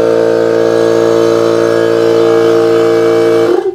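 DeWalt DCC1054N air compressor running with a loud, steady mechanical drone and strong harmonic hum for several seconds, then abruptly cutting off near the end.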